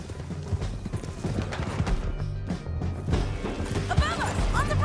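Several horses galloping in the video game Red Dead Redemption 2: rapid hoof clip-clop with thuds, a brief whinny and a crash, with voices talking over the ride.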